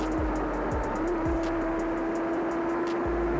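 A Porsche Turbo races at roughly 140 to 150 mph on a public road, passing slower cars, heard as a steady loud engine and wind roar with sharp whooshes of vehicles flashing by.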